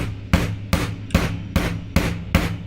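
Sharp hammer blows drive a pin into a fixed blade knife during assembly, seven evenly spaced strikes about every 0.4 seconds, close and loud with short ringing decays.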